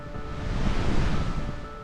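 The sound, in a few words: waterfall in Iceland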